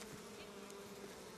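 Bees hum in a steady, close buzz at an apiary in Dagestan, a continuous drone with a brief bump at the end and no talk.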